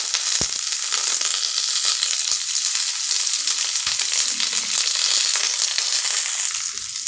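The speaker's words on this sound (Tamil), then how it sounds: "நம்மளுடைய கடலைப்பருப்பும் கடலையும் நல்லா வெந்துடுச்சு இப்போ நம்ம வந்து இதில் கருவேப்பிலையும் பச்சை மிளகாவும் சேர்க்கணும்" Curry leaves and green chilies fry with peanuts and chana dal in hot oil, giving a loud, dense, crackling sizzle that holds steady throughout, with occasional sharp pops and stirring scrapes.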